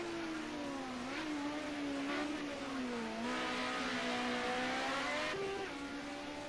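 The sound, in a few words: touring race car engine in Project Cars video game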